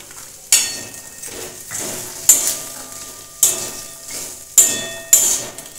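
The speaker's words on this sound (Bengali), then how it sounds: "মটরশুঁটিগুলো মশলার সঙ্গে একটু নেড়ে নিয়েছি।" Green peas stirred with spices in a hot pan, with five sharp spoon scrapes against the metal at regular intervals over a steady low sizzle, close and clear without talk.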